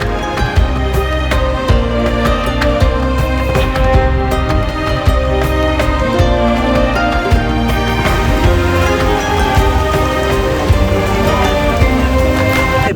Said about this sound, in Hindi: बारिश इस बार ऋषिकेश का साथ नहीं छोड़ रही है और होए जा रही है